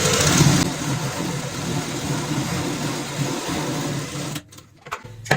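A sewing machine runs continuously, stitching cloth for a homemade ladies' purse made from old fabric, a steady whirring motor hum that stops abruptly near the end, followed by brief knocks.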